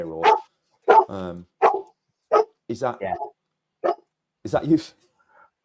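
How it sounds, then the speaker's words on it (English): A dog barks in a few short, sharp bursts spread across several seconds, cutting in among people talking nearby. "I don't know if that was the dog agreeing or disagreeing with what you said"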